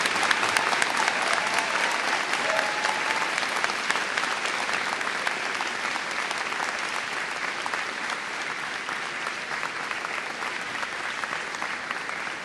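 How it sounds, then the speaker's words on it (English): A graduation audience at a university convocation gives a sustained round of applause, dense clapping from a large crowd filling the hall at an even, loud level. "May I ask the graduates of the class of 2011 to join in a round of applause for your family"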